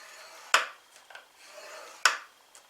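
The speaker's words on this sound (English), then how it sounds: "On the long side we're going to score this at 1/2 inch." Cardstock being scored with a scoring tool: two short, sharp scraping strokes about a second and a half apart, close by and fairly crisp, with quiet gaps in between and no talking.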